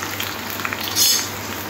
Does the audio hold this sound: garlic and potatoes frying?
yes